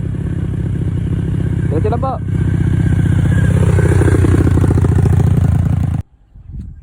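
An adventure motorcycle engine runs close by with a steady, throbbing idle that rises slightly, while a person speaks briefly over it before the sound cuts off abruptly near the end.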